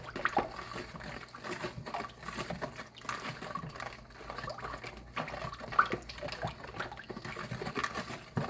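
Water pours into a pot holding soy sauce and a whole teriyaki chicken, giving a faint, steady patter and trickle that runs throughout.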